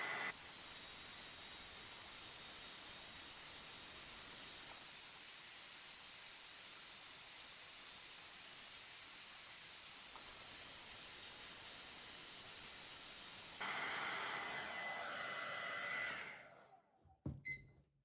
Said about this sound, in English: We're going to use our hairdryer again to heat up the TPU Gaiter for a minute